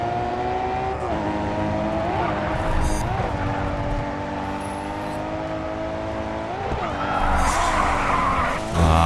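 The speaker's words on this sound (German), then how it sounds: "Und jeden Drift so lang wie möglich halten" A car drifting in the Grid 2 racing game, its engine holding a steady high whine while tires squeal continuously, with brief revving surges and shifts around the middle and end of the slide.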